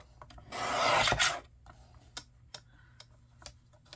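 A paper trimmer guillotine slices cardstock in one brief rasping cut, followed by several light ticks and clicks of the blade and paper, close and alone.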